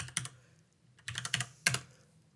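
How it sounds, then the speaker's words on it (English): Quick, close clusters of keystrokes on a computer keyboard as a search term is typed into a browser, soft taps in three brief bursts with short pauses between. "you open your browser and you type Matlab Schemer"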